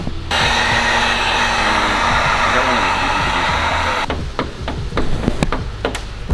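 A heat gun blows hot air over a fiberglass fender panel on an S13 car, a loud steady whooshing roar for about four seconds that cuts off, followed by several sharp taps and knocks.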